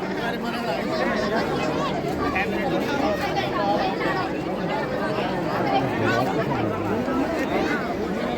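A large crowd at the Nayar Valley festival in Satpuli fills the air with a dense, continuous babble of many overlapping voices, steady and moderately loud with no single speaker standing out.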